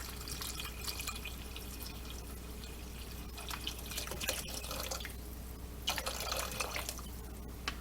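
Water is poured into a pot of homemade chili, a continuous splashing, trickling stream with a couple of louder surges near the end, heard alone at moderate volume.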